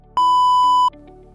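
A phone gives one loud, steady electronic beep lasting under a second, clear and alone, followed by a fainter lower tone.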